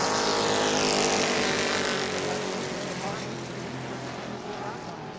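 Race cars roaring around the New Smyrna track, a loud, dense engine drone that stays close and steady, slowly easing off as the cars run a high line into turn three and come down the hill, with a commentator talking over it.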